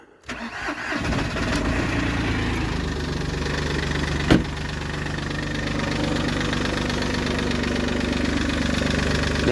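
An Audi A2 engine, suspected of an intercooler fault causing power loss, cranks and fires, then settles into a steady close idle, with a brief louder blip partway through; no talking.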